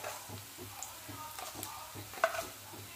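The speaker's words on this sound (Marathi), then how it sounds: "कमी गॅसवरच लसूण भाजायचं, म्हणजे छान व्यवस्थित भाजला जातो" Garlic roasting in a pan on low heat for Marathi garlic chutney, with asafoetida added, gives a soft, steady sizzle broken by light stirring scrapes and a brief sharper clink.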